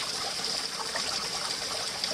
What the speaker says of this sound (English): And that water can be squeezed through.